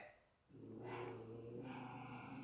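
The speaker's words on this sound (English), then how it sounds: "My dogs are growling at each other." Two dogs growl at each other indoors, a faint, low, continuous rumbling snarl that swells after a short pause and holds steady.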